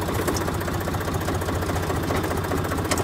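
An IHC 633 tractor engine idles steadily nearby, a loud, constant low rumble with a rhythmic knocking throb and no change in pace throughout.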